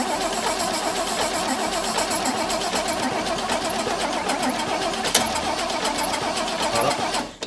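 A Holden HT Ute engine cranks and catches, running loud and steady close by for several seconds, with a sharp knock partway through and no talk over it.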